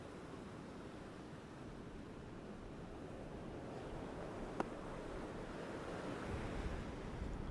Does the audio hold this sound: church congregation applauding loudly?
no